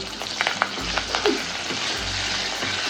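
Potatoes sizzle steadily in a hot pan for a potato bhaji with curry leaves, a fasting dish for Ashadhi Ekadashi, with a close, continuous crackle and small pops and no talking.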